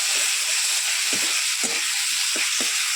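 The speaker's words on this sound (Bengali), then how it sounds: "টমেটোটা একটু ফ্রাই করে দিই" Tomatoes fry in a pan with ginger and garlic paste, giving a steady loud sizzle with a few soft stirring scrapes; no voices.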